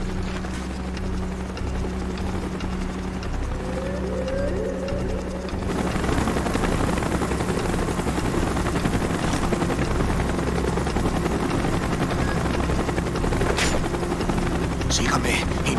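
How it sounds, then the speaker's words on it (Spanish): A helicopter in the video game Call of Duty: Black Ops thrums steadily at first, then grows louder and denser midway as the rotor noise fills in, with sharp gunfire-like cracks near the end. "¡Helicóptero en camino!"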